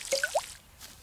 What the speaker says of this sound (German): tue ich natürlich weiterhin mit der kleinen Kanne gießen